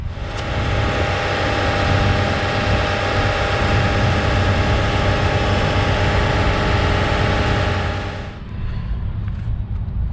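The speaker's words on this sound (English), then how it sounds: "keep the revs at about 2000 RPMs while I have this sprayed" A car engine holds a loud, steady high rev of about 2000 RPM for several seconds, then drops abruptly toward idle near the end.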